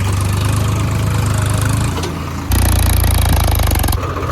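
A new-model 732 tractor engine running close by, a loud, steady low diesel chug at idle that dips briefly and then comes back stronger, with a knocking, throbbing rhythm throughout.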